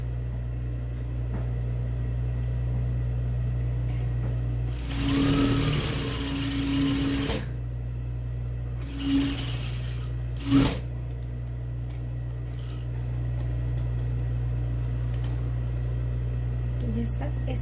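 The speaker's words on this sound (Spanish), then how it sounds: "aquí nos aseguramos que vaya cosiendo" A sewing machine stitches a seam in three short bursts of fast mechanical rattling, close and loud over a steady low hum, with pauses between runs.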